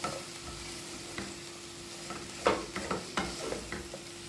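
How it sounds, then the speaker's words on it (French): Butter-coated shredded cabbage leaves being stirred in a pan, soft scraping strokes and light crackles scattered over a low background hum, fairly quiet with no voices. "une fois que tout est incorporé, on mélange bien le tout"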